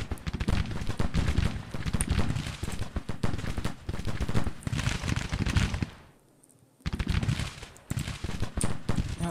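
Heavy battlefield gunfire and booming artillery from a war video game rumble in dense, continuous bursts, broken by a brief near-silent pause before the barrage resumes just as loud.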